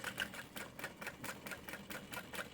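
A sewing machine runs two rows of stitching on a backpack-style bag, giving a faint, quick, even rattle of needle strokes throughout the short burst.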